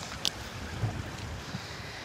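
Strong wind buffets a boat out on the water, a steady rushing roar with low rumbling gusts throughout.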